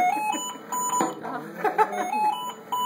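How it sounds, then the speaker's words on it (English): A steady, repeating electronic alarm beep during a class P vent check, bright and fairly loud, with some background voices and noise mixed in. "I would hear this alarm all day."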